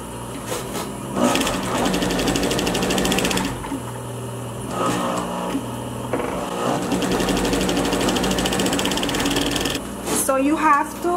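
A sewing machine runs close by while stitching a luxury fabric face mask, making a steady, rapid mechanical whir that carries on almost without pause, with brief dips in speed.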